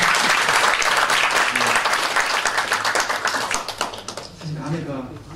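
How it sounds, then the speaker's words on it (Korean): A church congregation applauds in a fairly reverberant hall, loud steady clapping that gradually tapers off, with faint voices showing through as it fades. "박수 한번 주시겠습니다."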